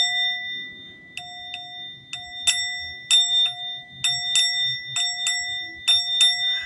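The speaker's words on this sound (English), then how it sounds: "Let me ring the bell." A small bell rings repeatedly in irregular strikes, bright and clear against a steady high tone, with faint low background noise and no speech.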